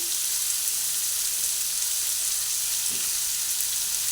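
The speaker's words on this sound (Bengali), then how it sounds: "আলু আর পেঁপে দুটোই একসঙ্গে ভেজে নিচ্ছি" Potato and papaya fry together in a pan with a steady, even sizzle that holds at a constant level from start to finish, with no talking over it.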